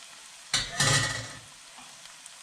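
Cooked potatoes stirred gently into spinach and onions in a pan for saag aloo, a short scraping, sizzling stir that swells briefly and then settles into a quiet low sizzle.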